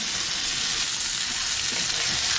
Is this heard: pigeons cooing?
no